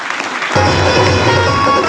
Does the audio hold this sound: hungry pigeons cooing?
no